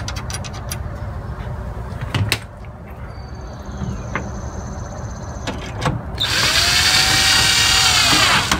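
A power drill drives a 1.5-inch flathead screw into a storm door latch, whirring steadily and loudly after a few scattered clicks and knocks from handling.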